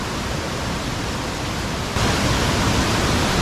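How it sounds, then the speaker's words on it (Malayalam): At Meenvallam waterfall in Palakkad, water and streams roar continuously in a dense, loud rush close by. The roar grows louder partway through, and no voices are heard. "മീൻവെള്ളം വെള്ളച്ചാട്ടത്തിൻ്റെ ഏകദേശം സ്ഥലത്തെത്തിയിട്ടുണ്ട്"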